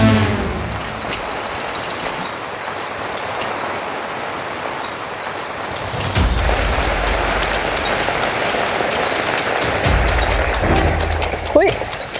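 Steady rain falls beside a canal during a fishing outing, a dense continuous patter that grows slightly heavier midway, with faint voices mixed underneath.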